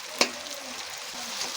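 Garlic sizzles in hot oil with onion and tomato while being stirred for a restaurant-style chicken curry, a soft steady frying hiss with one brief clack of the spoon near the start.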